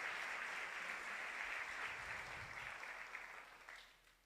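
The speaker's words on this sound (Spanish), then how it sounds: "Y dele un fuerte aplauso al Señor." A church congregation applauding, a dense crowd clapping that swells steadily, then tapers and fades toward the end, with no speech over it.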